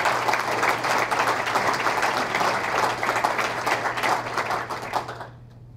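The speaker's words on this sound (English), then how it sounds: "please, take a round of applause" Warm, sustained applause from a luncheon crowd at a Veterans Day event, many hands clapping loudly and evenly over a low steady hum before tapering off abruptly at the end.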